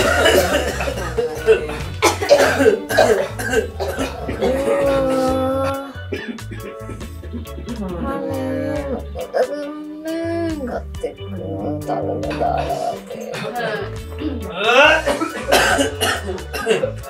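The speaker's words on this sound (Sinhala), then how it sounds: "මට කියන්නක ඇයි ඔයාට මෙච්චර කැස්ස?" A person coughs repeatedly in harsh, spaced bursts, mixed with chuckling and throat clearing, while voices talk over and between the coughs in an office comedy scene.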